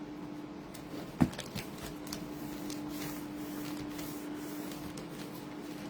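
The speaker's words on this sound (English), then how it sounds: "Glue this down." A paper shipping bag is pressed and rubbed flat against a glued surface, giving a soft continuous close-up rubbing and scraping under a steady hum, with one brief tap near the start.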